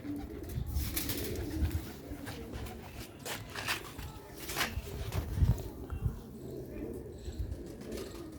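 Black-faced pigeons cooing, low soft repeated coos close by among rustling and faint background noise, with no one talking over them.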